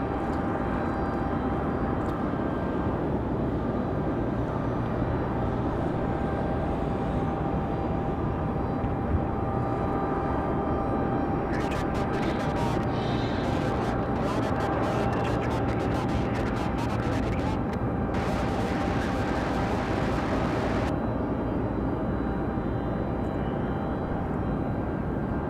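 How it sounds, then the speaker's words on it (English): An Embraer Phenom business jet moves at Raleigh-Durham International Airport, giving a continuous engine rumble and whine throughout, with bursts of crackling noise in the middle and no clear talk. "Here comes one of our other exec jets."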